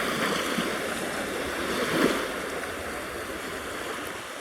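Ocean waves on a Japanese beach make a continuous moderate wash of surf, with one wave breaking a little louder midway and wind rumbling underneath.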